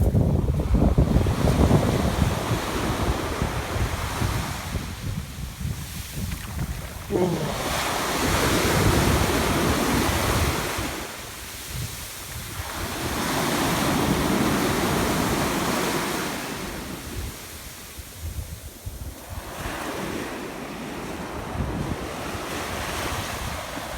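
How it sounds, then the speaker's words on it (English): Rough sea waves breaking and washing over a shingle beach in Gibraltar, surging in repeated loud swells with pebbly backwash between them and steady wind buffeting the microphone. "the water looks different today because it's rougher. I think it's the shingle."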